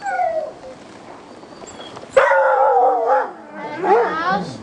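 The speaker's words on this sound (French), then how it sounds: "C'est devenu une vieille chienne de traîneau, là." A 12-year-old retired female sled dog howls up close, drawn-out wavering tones with a quieter stretch in between, then a louder rising howl.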